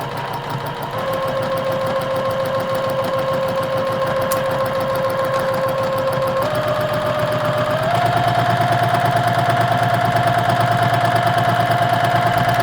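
A sewing machine runs steadily on a short, tight stitch length while sewing the seam of a reversible fabric dog bandana; the motor hum is continuous and fairly loud, with its pitch stepping up slightly partway through.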